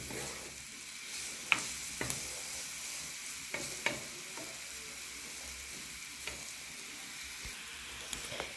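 Flour roux cooking with leftover roast chicken pieces in a pan, a steady close sizzle with occasional sharp clicks and taps of a utensil against the pan.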